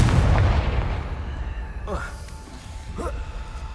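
A Confringo blasting spell explodes in the Hogwarts Legacy video game: a loud, broad burst opens the clip and fades into a rumbling tail, followed by two shorter whooshing magical effects.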